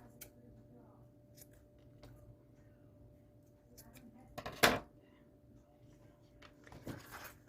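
Scissors snipping through a length of craft cord, a single sharp crisp cut standing out in a quiet indoor room with faint handling noises around it.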